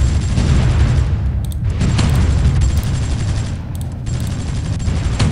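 Bombing and gunfire in the war strategy game Supreme Ruler 2020 form a loud, dense barrage of rattling shots and blasts with two brief lulls. No voices are heard.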